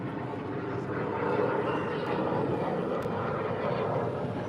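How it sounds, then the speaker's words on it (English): A red military aeroplane passes overhead near Potter Heigham on the Norfolk Broads, its engine drone a steady, fairly faint broadband rumble across the whole stretch with no talk. "That's a red aeroplane. Looks like red military aeroplane."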